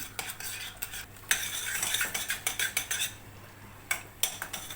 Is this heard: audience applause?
no